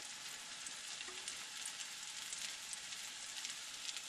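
Flour-coated pieces of liver fry in butter in a pan, giving a steady, even sizzle with fine crackling that carries on without a break, fairly quiet and heard alone.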